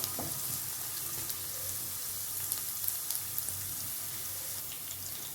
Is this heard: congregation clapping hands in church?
no